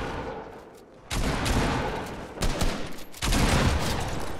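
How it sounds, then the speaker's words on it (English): SMG bursts fire in Fortnite, long sustained volleys of rapid shots that start after a quiet opening second, break off briefly, then resume in loud close bursts. "I hate these SMGs for long range."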